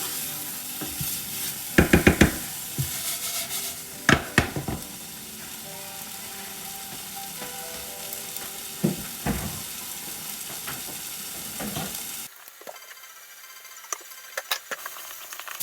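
Spices fry and sizzle in a pan for a chickpea curry, a steady close crackle broken by scraping stirs and utensil knocks, before the heat cuts to near quiet with a few faint clinks.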